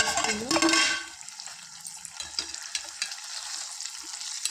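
Egg cooking in a pan for a tamarind-leaf egg curry being stirred: a loud burst of scraping and sizzle at first, then softer frying with scattered spoon scrapes and clicks, close, no talk.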